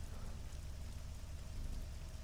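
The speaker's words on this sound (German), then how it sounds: "Es regnet." Steady rain falling in the Arma 3 video game, a dense, even wash of drops at constant loudness with a low rumble beneath and no voices.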